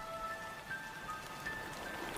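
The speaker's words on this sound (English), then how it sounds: "That call comes with the first of the monsoon rains." Steady monsoon rain pattering down on the forest of Christmas Island, an even, dense hiss of drops with faint high tones above it, continuous and moderately distant with no voices.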